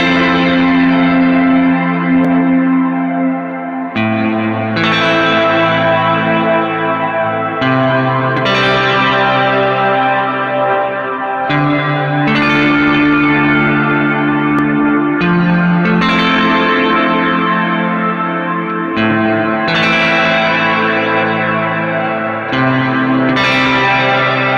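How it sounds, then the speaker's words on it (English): Electric guitar chords played through a Keeley Caverns V2 delay/reverb pedal with the settings cranked, ringing loud and washy with long echoing tails and a phaser-like sweeping shimmer across sustained changing chords. "I definitely hear that phaser type of sweep, but it still sounds very cool."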